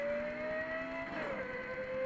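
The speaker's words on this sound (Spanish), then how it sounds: "Y ahora Need for Speed Carbon del 2006 el turbo" Turbo sound from the 2006 video game Need for Speed Carbon: a rising whistling whine over a revving car engine that drops in pitch as it spools down, short and moderately quiet.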